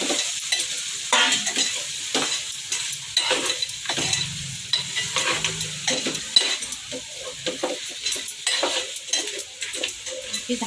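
Masala for a crab curry is sautéed in a hot pan, a steady sizzle broken by repeated scraping stirs and occasional clinks of a metal spoon against the vessel, close and continuous with no talking.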